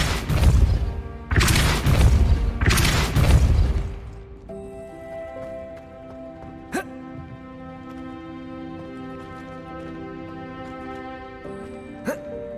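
Three heavy blasting bursts of the Depulso force spell in Hogwarts Legacy, loud booming whooshes in quick succession, then fading into a quiet humming backdrop with occasional faint clicks.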